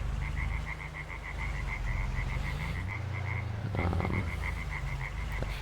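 Frogs croak in Farming Simulator 22 near a castle parking area, a rapid, evenly pulsing chorus that runs continuously over a low engine-like drone, with a brief rattling burst partway through.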